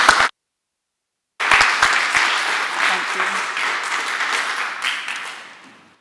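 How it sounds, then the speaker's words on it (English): Audience clapping breaks out at a humanist convention talk on Liverpool's humanist heritage, starting abruptly after a brief silence, holding steady for several seconds, then tapering off toward the end. "So a round of applause."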